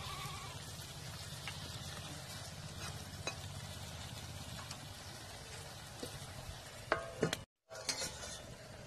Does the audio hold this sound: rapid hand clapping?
no